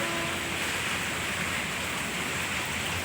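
Outdoor rain falls as a steady, dense hiss, loud and continuous throughout with no pauses.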